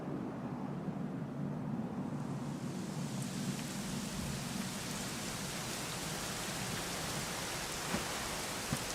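Steady rainfall in the video game Dragon Quest XI S, a dense even hiss of drops on surfaces that continues unbroken and fairly loud throughout, with no voices.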